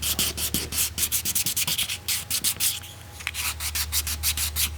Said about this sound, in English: Just want the whole thing sanded down.